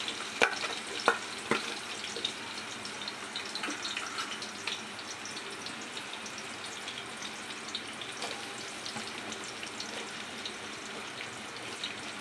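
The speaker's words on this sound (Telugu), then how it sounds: "ఫస్ట్ ఉల్లిపాయ వేసేసుకోవాలి." Onion fries in a pan for khichdi under a soft, continuous sizzle, with a few sharp clicks and pops early on and a steady, fairly quiet hiss throughout and no talk.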